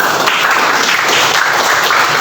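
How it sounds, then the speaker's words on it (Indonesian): Classroom applause from students clapping together, dense and steady throughout at fairly close range, with no voices standing out. "beri tepuk tangan ya"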